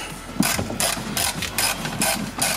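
Ratchet wrench backing out 10mm bolts on a Honda S2000, a series of close, rapid clicking bursts in a steady rhythm roughly every half second, with no talking.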